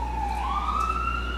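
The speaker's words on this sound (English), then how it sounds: "wherever that ambulance is going, whatever it's for" An ambulance siren outside, a steady wailing tone rising in pitch over a low rumble of traffic, moderately loud and continuous.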